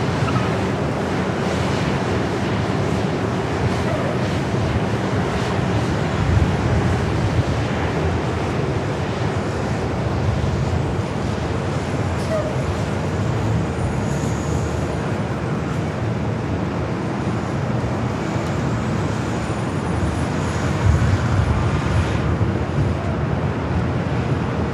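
A brand-new Airbus A321neo jet takes off on runway 24 left at LAX. A loud, continuous broad roar holds steady for the whole stretch and sounds windy and rushing, with a faint high whine drifting above it.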